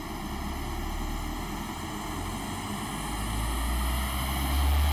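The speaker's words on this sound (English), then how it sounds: "This is the dyno after run." An Audi Q3 2.0 TDI diesel engine runs on a dyno as a loud, steady droning roar with a constant tonal hum, building slightly louder toward the end, with no talk.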